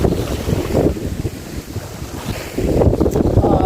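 Cold wind gusts buffeting the microphone at sea during a fishing trip, a loud blustery roar that eases in the middle and then surges back, with no voices.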